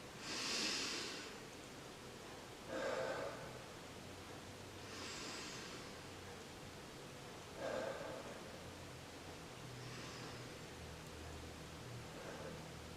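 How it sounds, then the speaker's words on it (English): Three slow, deep breaths taken close to the microphone, each a soft airy inhale and exhale spaced a few seconds apart over faint background hiss, with no talking. "So 3 deep breaths."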